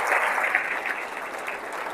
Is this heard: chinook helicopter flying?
no